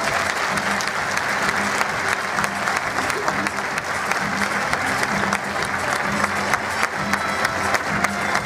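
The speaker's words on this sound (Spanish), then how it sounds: "¡Fuerte aplauso para él!" A comedy club audience at César Comedy applauds a comedian, dense steady clapping filling the room throughout with a few faint voices mixed in.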